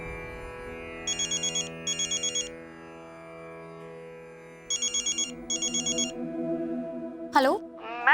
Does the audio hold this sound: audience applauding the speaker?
no